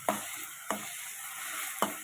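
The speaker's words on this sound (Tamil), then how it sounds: "பால் கொதிச்சாச்சு" A pan hisses and bubbles steadily as the milk boils, with three sharp clinks spaced out over the sound.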